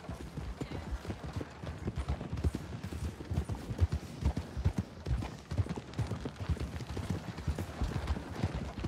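Hooves clip-clop in a steady, quick rhythm, close and continuous, like a horse trotting along at an even pace, in a video game.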